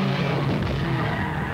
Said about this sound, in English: Let's look and listen from inside of Anthony Edwards' car.